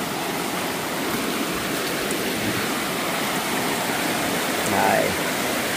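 A river swollen after Storm Sara rushes past in a continuous, broadband roar of flowing water, close and steady, with a brief louder splash near the end.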